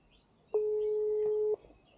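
A single steady phone call tone sounds for about one second in an unanswered call, moderately loud against faint background hiss.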